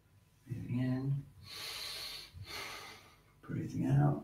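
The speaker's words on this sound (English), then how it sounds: "Breathing in." A deep breath drawn in during a guided shiatsu meridian stretch: two close, audible breathy inhalations with a softer airy stretch between them, heard near and alone.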